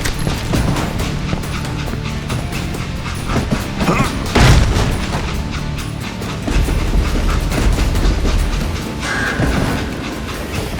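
A train in the Western shooter game Call of Juarez: Gunslinger rattles along on a rickety ride as the express car breaks away, a steady loud rumbling clatter with one heavy thump partway through.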